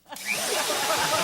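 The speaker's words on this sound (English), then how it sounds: "roll it around my screwdriver like this, stick the screwdriver in my drill" A power drill spins a sock wrapped around a screwdriver as a boot buffer, whirring steadily at close range, a continuous high spinning buzz with a faint rubbing texture, starting after a brief moment of quiet.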